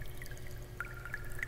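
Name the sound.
water dripping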